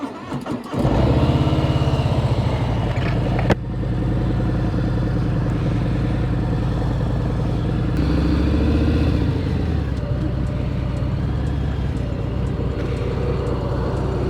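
A Harley-Davidson motorcycle starts up close by with a sharp crank, then settles into a loud, steady V-twin idle with light throttle blips and a brief rev, with no talking.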